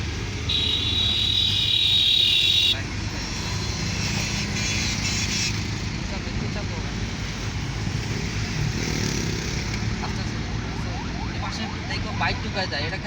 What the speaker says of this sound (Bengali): দেখো বাইক ঢুকায় যায়